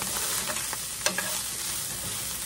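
A pound of hamburger meat with taco seasoning browning in a pan, a steady close sizzle with a few soft stirring scrapes and a brief clink, no voices.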